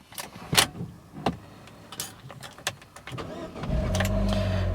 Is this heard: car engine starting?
yes